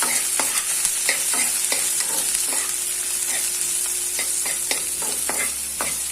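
Soybeans with ginger, garlic and chili fry in a pan, giving a loud, steady sizzle broken by repeated scraping stirs, close up and with no voices.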